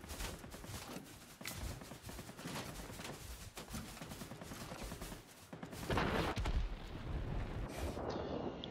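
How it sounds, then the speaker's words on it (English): Rapid bursts of heavy aircraft cannon fire in the video game World of Warplanes rattle continuously with explosive booms, dense and loud, with a bigger blast near the end. "Powerful cannons on that aircraft."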